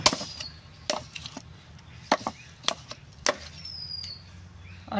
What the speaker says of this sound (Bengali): এরকম কুশালগুলো ছোড়া ছোড়া করে খন্ড করে নেব।